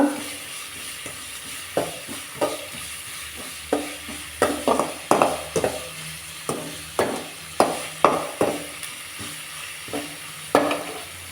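Onions sautéing in a pan for a spicy cauliflower fry, with a low steady sizzle broken by regular scraping stir strokes of a spoon about every second, close and clear, no voices.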